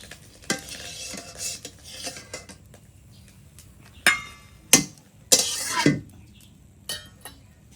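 Frying in a small amount of oil in a pan, with a soft sizzle broken by sharp spatula scrapes and clinks against the metal, several loud strikes in the middle and quieter stirring around them.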